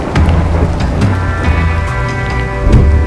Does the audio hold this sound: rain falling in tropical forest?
yes